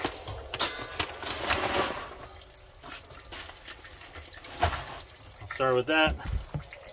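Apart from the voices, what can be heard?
water filling a reef aquarium tank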